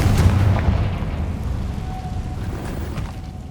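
A Confringo blasting spell explodes in the Hogwarts Legacy video game, a loud booming burst up front that rolls off into a lingering low rumble, with no talking over it.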